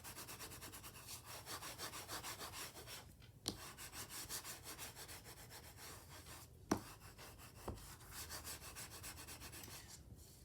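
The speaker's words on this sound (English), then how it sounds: "now taking my bone folder, I'm going to give that a really good burnish" Paper burnished with a bone folder for a Queen Bee portfolio craft project: steady, close rubbing strokes run continuously, broken by a few soft taps and knocks.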